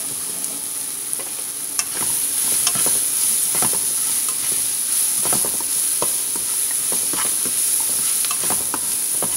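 Red chili fries in hot oil for poha, a loud steady sizzle that swells after a quieter start, with stirring clinks and scrapes throughout and no talk.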